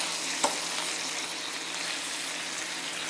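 Meat and vegetables stir-frying on a ceramic multi grill, a steady dense sizzle with a brief clink early on, close and continuous without talk.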